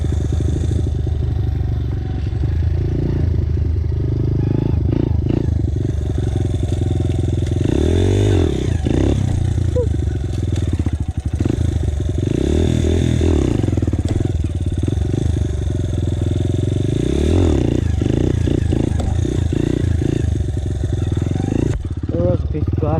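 Dirt bike ridden outdoors, its engine close and loud throughout, rising and falling with repeated revs and accelerations, with clattering from the ride and a voice talking over it.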